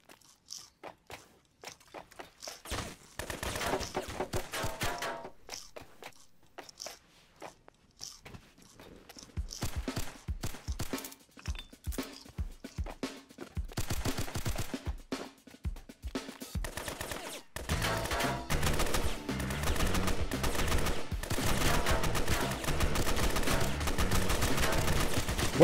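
Gunfire in Roblox Fallen Survival: sparse single shots at first, building into rapid repeated bursts and dense crackling fire, fairly loud and close, with continuous action noise underneath toward the end.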